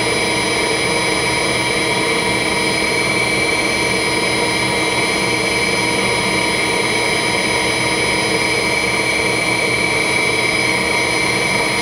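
A low-speed StarPower generator runs while its speed is raised, giving a loud, steady mechanical drone with a constant hum and whine that holds throughout, no voices.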